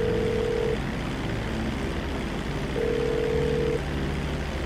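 A phone call rings in the video game GTA V, two long electronic tones separated by a pause over a constant background hum, with no speech.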